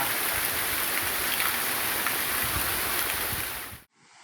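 Heavy monsoon rain falls in Gujarat, a loud, continuous wash of water noise that cuts off abruptly near the end.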